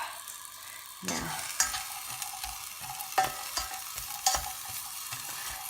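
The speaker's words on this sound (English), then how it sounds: "so I'm frying off the red onion and the red pepper at the moment." Red onion and red pepper frying in a pan give a soft, steady sizzle, broken by a few louder stirring scrapes and clacks of a utensil, close and fairly quiet, with no talk.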